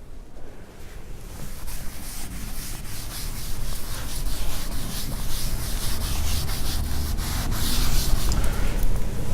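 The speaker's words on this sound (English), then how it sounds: "For that, I just need to rub the board for a while." A classroom blackboard being rubbed clean, heard as a steady, close, scratchy rubbing in repeated strokes that grows slightly louder over several seconds, with no talk.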